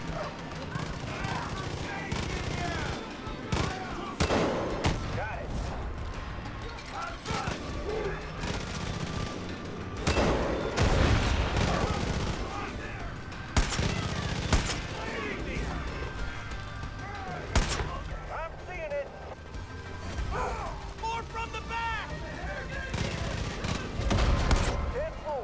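Far Cry 5 gameplay gunfire: repeated bursts of rifle and automatic-weapon shots, some sharp and close, others rattling in the distance, continuing throughout with voices and a dog's barking mixed in.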